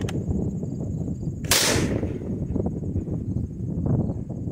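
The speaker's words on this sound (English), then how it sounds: "This is the Cobray Terminator Slam Fire Single Shot Shotgun." A single sharp blast from a Cobray Terminator slam-fire single-shot shotgun fired outdoors, cutting through constant wind rumble on the microphone.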